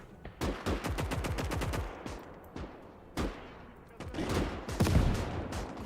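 Rapid bursts of machine-gun fire from a Maxim gun in the World War II game Call to Arms Gates of Hell, loud and rattling in quick strings, with scattered single shots and battle noise between volleys.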